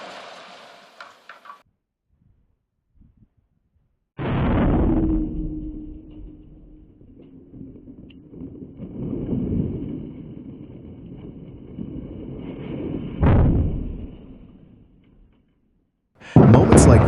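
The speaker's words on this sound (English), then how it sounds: "As explosive charges detonate at the base, a massive pressure wave races upward through the hollow interior of the chimney" Explosive charges detonate at the base of a chimney during a demolition, giving a sudden loud blast that rolls into a long rumbling roar with a sharp crack partway through and wind buffeting the microphone.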